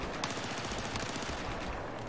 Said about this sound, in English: I just unlocked this MP7 lately, and I really do like this. This is a really good gun.